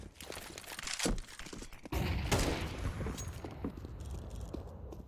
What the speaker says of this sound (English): Fnatic, again receiving all this fire, all these Molotovs and HEs down range, down ramp.